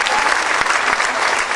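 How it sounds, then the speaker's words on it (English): A live audience breaks into dense, steady applause, loud and close, filling the whole moment with continuous clapping and no pauses. "Give him a clap,"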